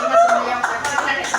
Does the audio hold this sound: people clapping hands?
yes